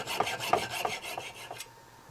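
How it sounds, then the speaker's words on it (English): A small jewelry piece pressed against a little grinding wheel, giving a run of short, close rasping strokes in a quick uneven rhythm that stops abruptly near the end. "They have to be ground on the small wheel that I pointed out."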